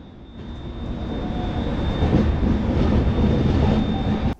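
A Howrah–Bengaluru Duronto Express rolls through Kharagpur station without stopping, a rising rumble of wheels on rails heard from on board, with a thin steady whine above, ending in a sudden jolt.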